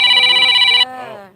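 An electronic telephone ringtone trills loudly and closely for under a second, then cuts off and leaves a fading tonal tail.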